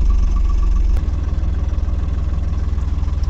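A truck engine idles at a railway level crossing on a potholed road between Kudal and Vikramgad, giving a steady, close low rumble with an even throb that stays constant throughout, with no talk over it.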